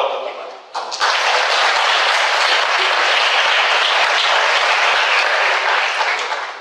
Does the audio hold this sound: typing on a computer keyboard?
no